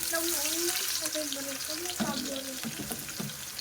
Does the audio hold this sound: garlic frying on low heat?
yes